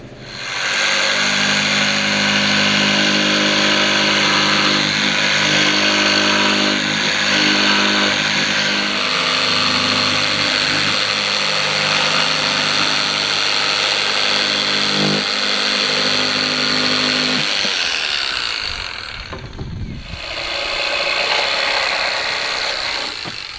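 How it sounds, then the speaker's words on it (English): A power saw runs steadily in a home workshop, a loud continuous motorized whine that cuts off near the end, followed by a brief clunk and lower rumble. "now I can go and do some sawing"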